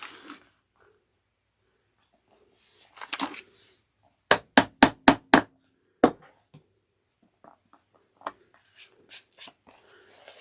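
A hammer strikes a 1/8 inch hole punch through fleece. Six sharp, close taps come in quick succession, then a single later strike, with light handling noises and rustling before and after.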